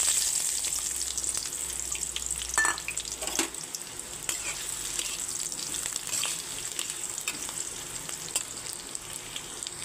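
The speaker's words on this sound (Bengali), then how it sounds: "কড়াইয়ে তেল গরম হয়ে গেছে, এখন পেঁয়াজগুলো দিয়ে দিচ্ছি" Sliced onions hiss and sizzle in hot oil in a wok, a continuous close frying sound with occasional stirring scrapes and a brief clatter early on, no talking.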